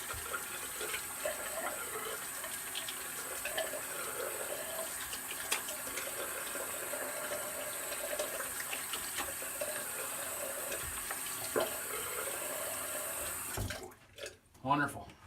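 Running water from a tap rinsing three shaving razors at a sink, a steady continuous splashing flow that fills most of the clip before cutting off near the end, followed by a few brief clunks.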